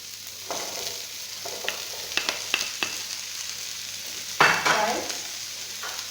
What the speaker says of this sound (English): Then I'm going to stir nicely.